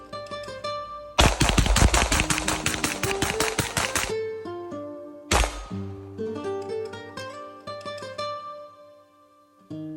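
A Bear Creek Arsenal Grizzly Glock 17 clone fires a full magazine in a rapid string of close, loud gunshots, then a single further shot after a short pause, with music playing underneath.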